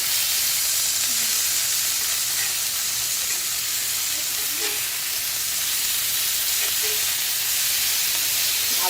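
Chicken wings sear in a cast iron pan, giving a loud, dense, unbroken sizzle and hiss that holds steady from start to finish with no voices.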